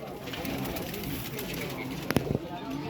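Ferozpuri pigeons coo softly and steadily in a loft, with a brief louder flutter of sound near the end, while someone talks over them.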